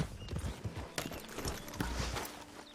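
Horse hooves clip-clop in Red Dead Redemption 2, a quiet, irregular series of hoof falls with soft background noise.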